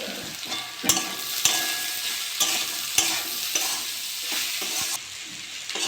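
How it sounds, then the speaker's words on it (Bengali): Ground spices (turmeric, chilli, cumin, coriander, salt) frying in a pan give a steady close sizzle, broken by regular sharp scrapes and taps of a spoon stirring roughly every half second. "মশলাটা ভালো করে নেড়ে চেড়ে নিয়েছি"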